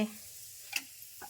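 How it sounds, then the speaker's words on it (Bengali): Luchi deep-frying in hot oil during a Saraswati Puja evening at home, a faint steady sizzle with a couple of brief clinks near the end. "লুচি ভাজা হচ্ছে এদিকে"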